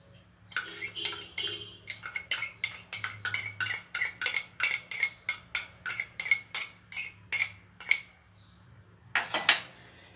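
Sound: mixing pepper sauce ingredients in a bowl

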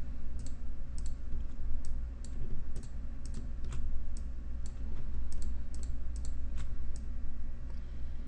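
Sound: computer keyboard key presses and mouse clicks

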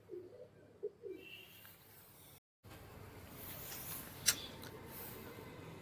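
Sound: Madrasi pigeons cooing

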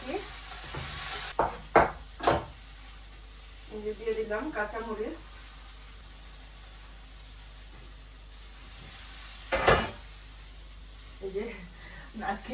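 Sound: stirring spice paste mixed with water

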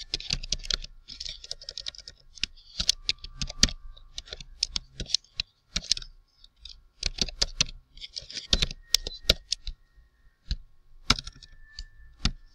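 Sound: typing on a computer keyboard while writing CSS code

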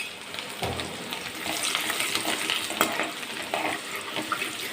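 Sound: curry leaves and garlic being stirred in hot oil

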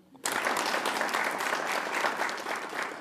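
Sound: audience applause

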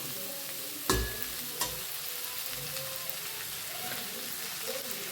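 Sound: cluster beans being stirred and fried in a pan

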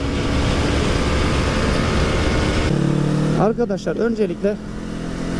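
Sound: sport motorcycle engine revving

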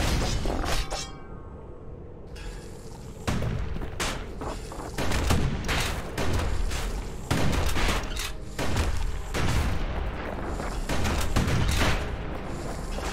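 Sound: musket gunfire in the video game Bastion

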